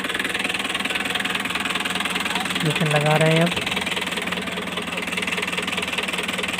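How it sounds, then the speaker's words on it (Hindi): An Eicher 485 tractor's engine strains to pull a loaded trolley out of mud, giving a continuous chugging drone with a brief rise midway while someone talks over it. "लेकिन काफ़ी जोर लगाना पड़ेगा ट्रैक्टर में"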